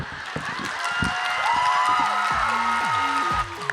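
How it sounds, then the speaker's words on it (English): A poetry slam audience applauds and cheers, sustained clapping with whoops and shouts from the crowd over a few seconds. "keep that applause going"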